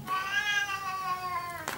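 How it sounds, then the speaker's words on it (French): A domestic cat meows once in a long, drawn-out wail close by, trailing off before a brief rustle at the end; no one talks over it. "Ah, vous avez entendu? Ça, c'est le chat."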